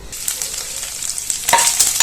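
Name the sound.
bacon sautéing in a nonstick frying pan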